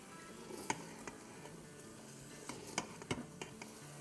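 Soya chunks frying in a pan at low volume, with a soft steady sizzle and a few sharp clicks and scrapes as a utensil stirs against the pan.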